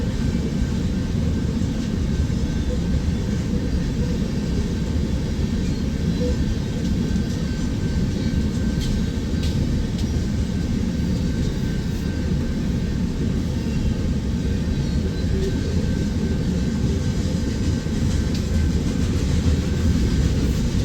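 A loaded eastbound coal drag rolls past at Pacific Junction, Iowa, coming off the Creston Sub: a loud, steady low rumble of heavy wagons with faint wheel clatter, unbroken throughout and without talk.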